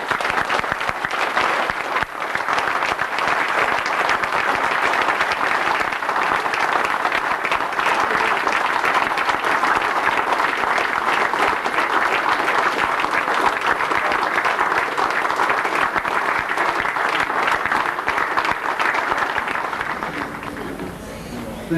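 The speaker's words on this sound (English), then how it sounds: "welcoming you with a hearty round" A dinner audience at the Oscar Heidenstam Foundation gives a hearty round of applause, loud, dense and sustained for about twenty seconds before tapering off at the end.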